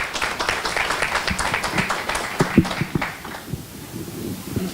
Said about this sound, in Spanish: Le damos un fuerte aplauso a don Jorge Larrocó.